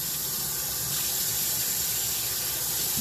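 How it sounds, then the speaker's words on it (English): Hands being washed under a running kitchen or bathroom tap, a steady close hiss of flowing water splashing into the sink, continuous and even throughout with no voices. "Gotta wash these hands."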